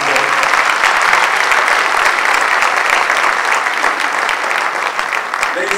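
Audience applause for Seth Pinsky at the Bronx State of the Borough address, loud and sustained from a large crowd, steady throughout without a break.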